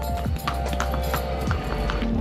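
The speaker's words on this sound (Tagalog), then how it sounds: "May kabayo pala dito." Horse hooves clip-clop in steady uneven taps on a road in the Philippines, fairly close and loud, with a vehicle hum and other outdoor noise underneath.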